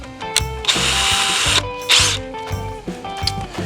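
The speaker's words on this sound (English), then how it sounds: "Grab a smaller drill bit" A power drill bores a pilot hole in wood for a quail feeder, two close whining bursts of motor under steady ratcheting clicks, loud and near with no talk.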